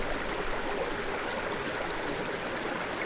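Water is pressed from a sturdy bag through a drinking-water filter, making a steady, soft rushing trickle that continues evenly throughout with no talking.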